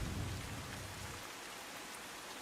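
Early-morning heavy rain in Surat, Gujarat, heard as a faint, distant, even hiss of falling water with a low rumble in the first second, continuing steadily on its own.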